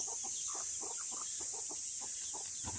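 Young chicks in a poultry coop peep in quick, bright, repeated chirps at close range over a steady high-pitched background hum.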